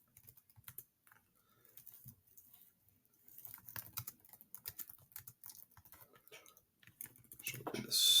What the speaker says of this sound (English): So I'm going to write a few sentences real quick.